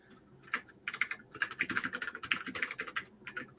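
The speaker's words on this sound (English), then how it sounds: "I'm going to come here and type in here" An email address being typed on a computer keyboard: a rapid, close run of crisp key clicks in uneven bursts with short pauses between.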